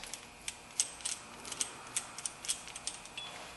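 A special brake tool clicks into the groove on a 2004 Kia Spectra's rear brake, producing a quick, irregular series of faint metallic ratcheting clicks close by, with no talking.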